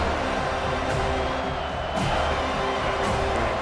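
Stadium crowd in EA Sports College Football 25 roaring behind the defense on third down, a dense continuous wash of cheering that swells slightly midway, with no clear voices above it.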